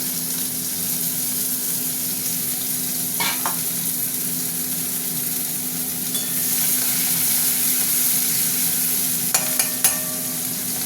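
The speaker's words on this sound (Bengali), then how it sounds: "আর একটু তেল গরম হয়ে গেছে, পেঁয়াজ দিয়ে দিচ্ছি।" Onions frying in hot oil in a pan, a steady hiss of sizzling that runs throughout with a few sharp clinks of stirring, no talk.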